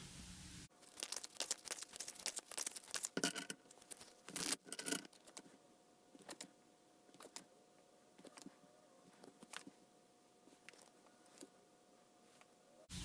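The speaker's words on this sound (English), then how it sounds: "you just seen me shuffle these cards here" Tarot cards are shuffled by hand in irregular bursts of crisp slapping and riffling, close and fairly quiet, with pauses between flurries.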